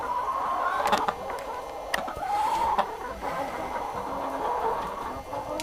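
A Wyandotte rooster clucks and calls amid steady background noise, with a few short sharp knocks scattered through.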